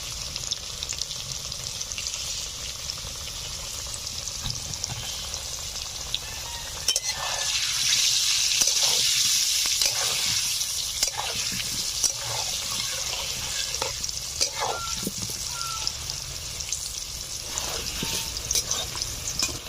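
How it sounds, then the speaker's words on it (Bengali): Potatoes frying in oil in a pan with salt and turmeric, a steady hissing sizzle with crackling pops throughout, swelling louder for a stretch in the middle. "আলুগুলোকে লালচে করে ভেজে নিয়েছি"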